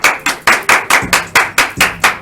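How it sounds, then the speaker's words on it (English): A single pair of hands claps in an even rhythm of about eight sharp, loud, close claps, alone with no voices. "Clap that up for them"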